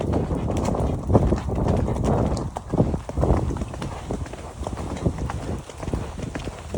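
A horse trots uphill on an outdoor hack, its hooves clip-clopping in a steady, close rhythm over continuous wind and movement noise.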